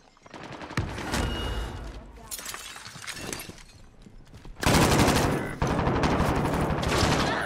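Rapid automatic gunfire in the Warzone video game, including an RAAL LMG, with dense bursts of loud close shots and shattering impacts, heaviest and continuous in the second half.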